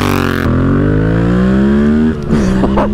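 A motorcycle engine revs hard on the throttle, close and loud, its pitch climbing steadily over a couple of seconds before dropping off, then a brief second blip.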